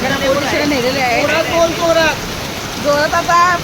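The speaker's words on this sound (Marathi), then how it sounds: "पब्लिकला समजलं पाहिजे भरपूर पाऊस आहे" Heavy rain pours during a street protest march, a steady loud hiss of falling water running through the whole stretch while a person talks over it.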